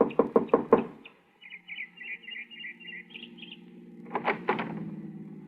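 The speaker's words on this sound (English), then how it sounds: "knocked at the door of a small house" Four quick, sharp knocks on the door of a small house, close and distinct, followed by a pause with a faint chirping tone, then a second burst of knocks.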